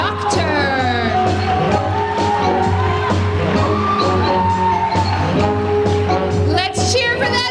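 A school concert audience cheers and whoops for a dance team, a busy crowd roar with shouts and voices rising over it throughout.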